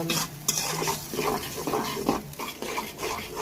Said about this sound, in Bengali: এখন এই পেস্টটাকে কিছুক্ষণ ভেজে নেব